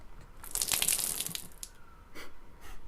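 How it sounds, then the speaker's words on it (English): Water draining out through an essencer valve in The Last Door video game, a soft trickling and gurgling burst early on that fades, then brief later splashes, faint and alone. "When I open the valve, I will drain the water until all of the water has been"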